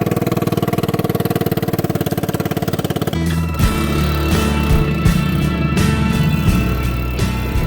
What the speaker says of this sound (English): You can probably tell that we still don't have the Vespa exhaust fixed.